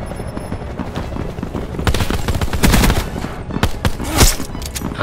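Loud automatic gunfire in a Call of Duty match, dense bursts of close shots building in the second half over a noisy game background.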